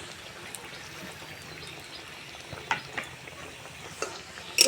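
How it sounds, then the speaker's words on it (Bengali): Egg-and-flour snack pieces frying in hot white oil, a steady close sizzle and bubbling throughout, with light clinks and a sharper spatter toward the end. "একে একে এগুলো আমি তেলের মধ্যে দিয়ে ভেজে নেব"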